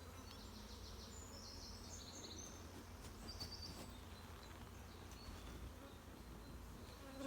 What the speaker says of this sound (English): shaking some bees